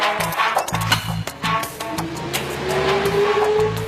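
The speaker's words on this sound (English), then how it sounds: "We start by running the Chevy Cruze on regular gas." A Chevy Cruze running on regular gas drives at about 50 km/h on a dynamometer, a close, loud mechanical drone with a slowly rising tonal whine and irregular knocking pulses throughout.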